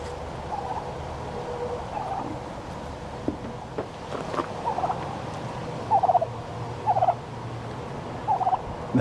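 Several turkeys gobble in short warbling bursts, some nearby, over outdoor wind and rustling, with the calls repeating every second or two.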